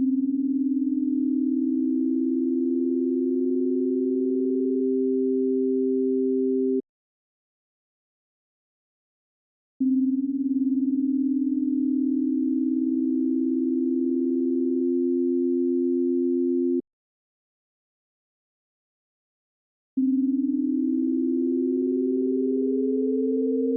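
Pure sine tones, close and steady, sounding two pitches together as perfect intervals, one pitch gliding upward into tune before holding; three sustained blocks separated by silent gaps.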